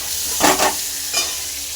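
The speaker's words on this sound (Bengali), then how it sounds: "এঁচুরগুলো লাল লাল করে ভেজে নেব" Boiled young jackfruit pieces with turmeric frying in a pan, a loud sizzling hiss with two bursts as the pieces are stirred, no talking.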